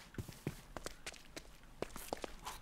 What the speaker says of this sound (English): It even sounds like my footsteps are wet